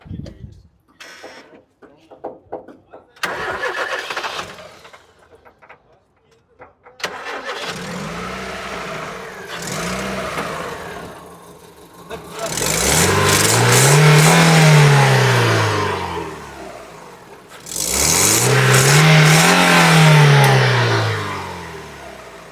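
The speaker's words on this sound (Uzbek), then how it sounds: "Ichkariga kirib bitta yoqing, men motorni bir eshitay" A Chevrolet Cobalt engine cranks and catches after some clatter and muffled voices, then idles and is revved twice in long, rising and falling surges.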